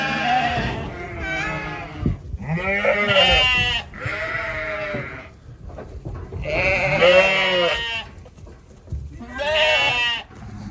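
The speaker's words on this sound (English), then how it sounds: "Come on, sheepy sheeps." Sheep on a farm bleat loudly and close by, with several long, wavering calls separated by short pauses.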